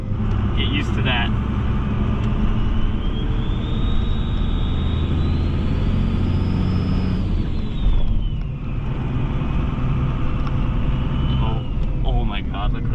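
A 2002 Dodge Ram 2500 pickup with a 24-valve Cummins diesel, compound turbos and a six-speed manual drives along with a constant heavy engine drone, a rising and falling whine, and someone talking over it.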